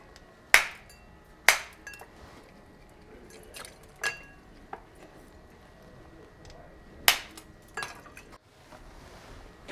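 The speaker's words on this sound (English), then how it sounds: "And crack it into the glass." Cracked ice clinks into a glass for a Negroni, with a few sharp, ringing knocks spaced apart and faint rattling in between, close and clear against a quiet room.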